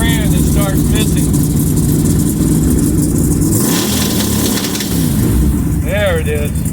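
A car engine revving under load and stumbling as it misfires near 2,000 rpm, loud and close throughout, with rising rev sweeps near the start and end and a rough uneven drone between.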